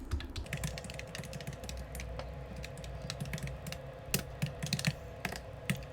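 Computer keyboard typing while entering if-else conditional statements in Java code, with a steady run of close, irregular key clicks and no talk over it.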